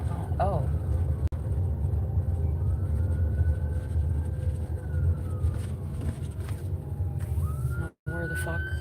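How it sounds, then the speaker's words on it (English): A fire truck siren wails in traffic, its rising and falling tone moderately distant over a steady road rumble while people talk nearby. "Oh, it's a fire truck."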